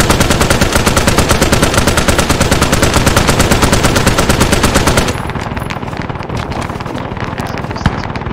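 Sustained machine gun fire in a military video game, a very fast, loud, continuous rattle for about five seconds, then dropping to a quieter, more distant stream of rapid shots.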